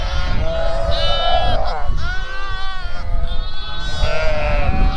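Big lambs bleating loudly and almost continuously at close range in a winter barn during Canadian lambing season, several overlapping calls rising and falling.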